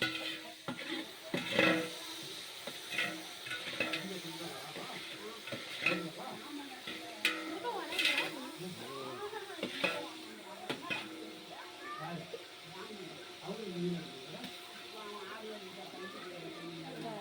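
Tomatoes frying in a pan for Singapore biryani, a soft sizzle with repeated scraping stirs under a person talking.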